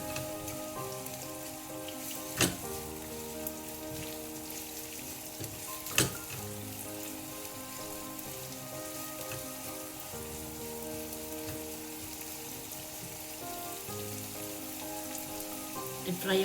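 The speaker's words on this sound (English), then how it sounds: "Fry your onions well." Chopped onions frying in hot oil in a pan, a steady close sizzle and crackle that runs throughout, with a couple of sharp pops and clinks along the way.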